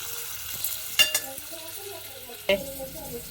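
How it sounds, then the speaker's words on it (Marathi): Paneer cubes roast and fry in a pan with a soft, steady sizzle, broken by two sharp clinks of a utensil against the pan, heard close and fairly quiet. "आता इथं पनीर घेते आता भाजून भाजायला घेतलं पहिलं थोडंसं तळलं"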